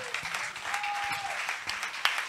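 A church congregation applauds after a Sunday sermon reading: soft, fairly distant clapping spread across the room for a couple of seconds, fairly quiet overall.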